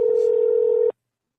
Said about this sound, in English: You gonna answer that phone or what?